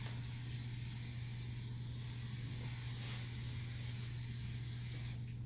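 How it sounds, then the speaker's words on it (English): Bed Head TG hair oil sprayed onto hair during a pompadour styling, a steady close hiss running unbroken for several seconds, with no talking. "I'm gonna use some bedhead TG oil, right? And I'm gonna put the oil like this."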